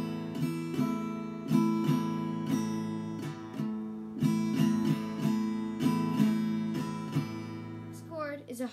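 Guitar strums a chord repeatedly in an uneven rhythm, about a dozen bright, ringing strokes close by and moderately loud, ending with a short scraping slide.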